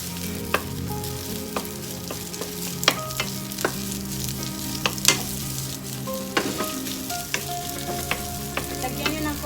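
Cooked rice frying in butter in a pan: a steady, close sizzle runs throughout, broken by sharp clicks and scrapes of a spatula stirring and tossing the grains, with no voices.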